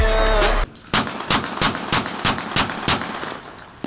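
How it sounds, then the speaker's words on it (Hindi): Celebratory aerial gunfire at a farmhouse on Bedian Road in Lahore on New Year's night: a loud opening burst followed by about nine evenly spaced sharp shots cracking one after another. "बेदिया रोड फार्म हाउस में सरेआम हवाई फायरिंग"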